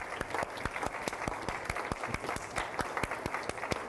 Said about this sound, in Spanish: Aleluya, aplaudid.